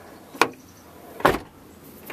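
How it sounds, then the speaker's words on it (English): Two separate thumps of a car door being shut, about a second apart, during repair of a stuck door latch with lubricant sprayed in; close and moderately loud, no talking. "close the door a couple of times."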